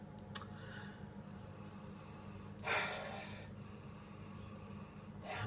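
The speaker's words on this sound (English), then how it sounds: "I don't know why I say cheers and then sniff it." Beer being sniffed, a Medusa ale from Harper's Brewing Co.: one clear nasal inhale near the middle, with faint breath and a low steady background hum around it.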